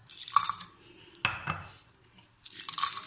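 Whole spices, including a cinnamon stick, cardamom pods and cloves, are dry roasted in a pan, making short bursts of rattling, clinking and scraping close by, separated by brief quieter gaps.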